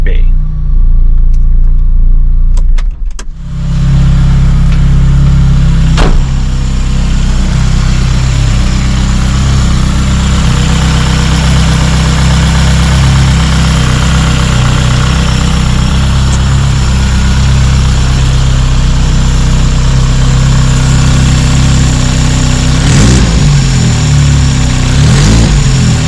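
A Lotus car engine runs with a whirring noise, a loud steady rumble and hum that holds for most of the stretch after a brief disturbance near the start.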